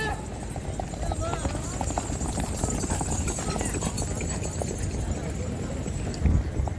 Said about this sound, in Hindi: भुज के अश्व प्रेमी सभी घोड़े घुमा रहे अभी, देख सकते हो।